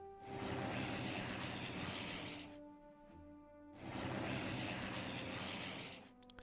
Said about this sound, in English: Bit of bomber action as per normal.